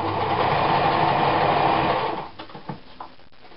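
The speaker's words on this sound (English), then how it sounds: "Keep sewing, sewing," A sewing machine runs steadily, stitching fabric for a puff sleeve, its continuous whir loud and close for about two seconds before stopping, followed by a few soft clicks and handling sounds.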